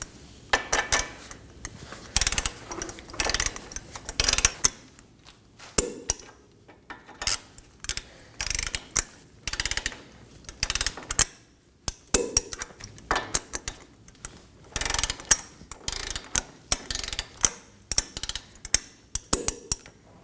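A ratcheting torque wrench tightens control arm bolts on a 2020 Toyota Corolla, sounding as repeated sharp metallic clicks in short bursts with brief pauses between them.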